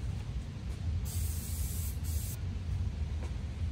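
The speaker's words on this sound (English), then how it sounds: "And it comes with the new oil to spray." K&N filter oil sprayed from a can onto a washable air filter, two short, loud aerosol hisses about a second apart, with no talk.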